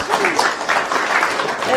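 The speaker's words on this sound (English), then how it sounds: "applause. Yes, thank you." Brief audience applause at an innovation talk in Eindhoven, a short burst of clapping from a small room that mixes with voices.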